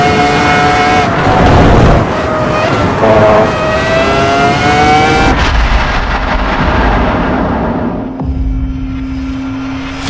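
Race cars in the Assetto Corsa Evo racing game roar at high revs with rising engine pitch and shifts, then one pass cuts off into a lower steady drone, loud throughout.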